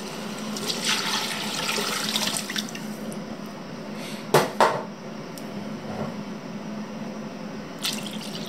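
Water runs and splashes into a cooking pot for a traditional onion soup, a steady moderate flow with a couple of sharp clinks of cookware partway through.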